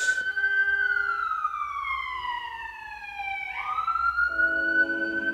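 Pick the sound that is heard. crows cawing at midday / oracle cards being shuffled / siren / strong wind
siren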